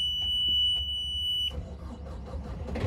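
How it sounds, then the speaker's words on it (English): A sailboat's inboard engine cranks and catches after a steady alarm tone, then runs with a rough, rhythmic chugging aboard an ALPA 42 yacht. "The engine started."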